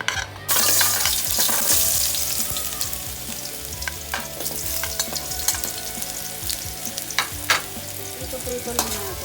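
Carrots fry in hot oil in a pan with a loud, steady sizzle that starts abruptly, joined by frequent scraping and clinking as the pieces are stirred.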